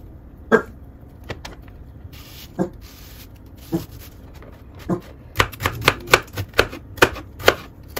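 Knife chopping an onion on a cutting board, a few sparse chops at first, then a quicker run of sharp, close, evenly spaced cuts toward the end, with no talk over it.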